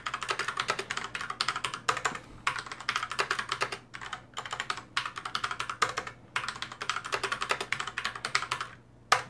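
A faulty computer keyboard that registers doubled letters and spaces is typed on in steady, close bursts of key clatter, pausing briefly between runs of keystrokes.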